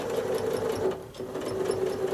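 A sewing machine runs steadily while free motion quilting, its needle buzzing in a fast, even whir that barely dips for the whole stretch, close and clear with no talking.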